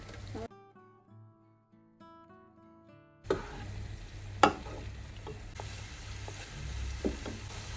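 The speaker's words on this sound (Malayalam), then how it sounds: "ഈ ഒരു വലിയ പാനിലേക്ക് നമ്മളിത് മാറ്റി കൊടുക്കുകയാണ്." Masala of onions and spices for egg mandi sizzling and being stirred, then moved into a larger pan, with a spoon scraping and knocking against the metal, steady frying hiss underneath, after a brief stretch of soft music.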